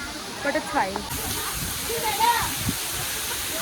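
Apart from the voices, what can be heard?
Katiki waterfall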